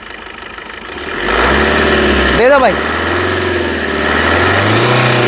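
Engine of a 2018 Maruti Suzuki Ignis Delta AMT car, steady and close, with one brief rise in pitch in the middle and a low hum throughout, while someone talks over it.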